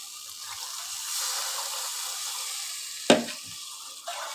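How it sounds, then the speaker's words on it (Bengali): Water is poured into a pan of spice paste fried in oil for an egg curry, setting off a sudden loud hiss and splash that fades into a steady simmering sizzle, with no talk. "এবার আমি জল দিয়ে দিচ্ছি।"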